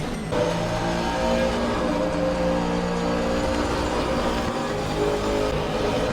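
Race car engine in Assetto Corsa Competizione roaring steadily down the Kemmel straight at Spa, a loud, sustained high-revving drone with no breaks and no voices.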